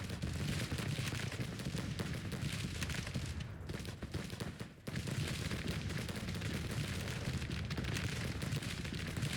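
Civil War musket volleys and cannon fire from the battle game Grand Tactician crackle in dense, continuous rolling gunfire, with a brief lull before it resumes at full intensity.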